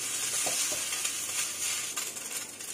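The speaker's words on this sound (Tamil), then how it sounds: "Bee Hoon நம்ம சேர்த்துடலாம். நல்லா கிளறி விட்டுக்கோங்க." Bee hoon rice noodles stirred in a frying pan for Singapore-style bee hoon goreng, giving a steady broadband sizzle with a few soft scrapes of the utensil, close and moderately loud, without talk.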